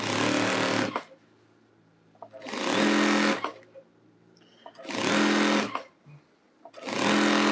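A sewing machine runs straight stitch through a thick jelly roll rug in four loud, steady bursts of whirring, each about a second long, with short quiet pauses and faint handling noises between them.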